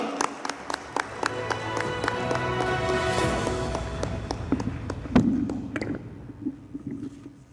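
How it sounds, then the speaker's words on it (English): Audience applause at an HR leadership conclave award moment, dense clapping with scattered sharp claps and some cheering, building over several seconds and then thinning toward the end. "Please give a round of applause."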